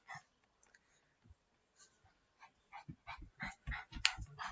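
Dogs indoors whimper and yip in soft, short bursts, first sparse and faint, then coming more often and a little louder toward the end.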